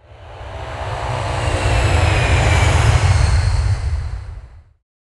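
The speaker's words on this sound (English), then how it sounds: "Yes, Pilot Blinky goes with the aeroplane." Aeroplane sound effect in a preschool matching game: a broad roaring engine rush that swells to a peak mid-way and fades out after about five seconds.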